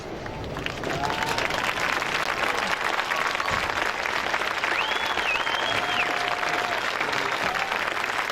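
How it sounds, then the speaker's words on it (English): Standing crowd at a high school football game applauds steadily, a dense wash of clapping and cheering that fills the stands for several seconds, with a few faint whistles and voices rising over it. "Let's stand and give them a round of applause."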